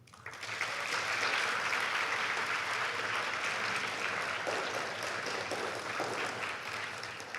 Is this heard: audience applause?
yes